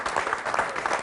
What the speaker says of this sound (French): applaudit très très fort Am Ibrahim.